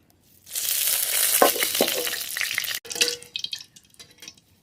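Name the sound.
mustard oil heating in a hot wok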